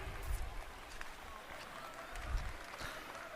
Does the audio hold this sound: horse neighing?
no